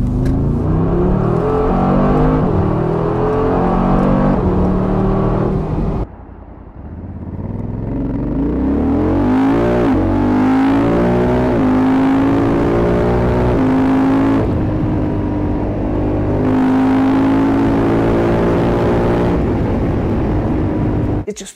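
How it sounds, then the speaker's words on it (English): A Honda Africa Twin 1100 DCT adventure motorcycle roars through its automatic gear changes, engine pitch climbing in repeated sweeps with brief drops and pauses between shifts, loud and close throughout. "changes gears and the muffler reacting to those changes of gears with sound is amazing"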